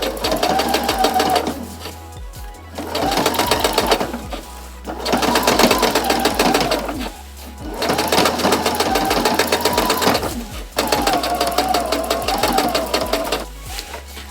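A sewing machine stitches over a denim pocket on a jeans jacket, running in five long, steady, loud bursts of about two seconds each with short pauses between, close up and with no talk.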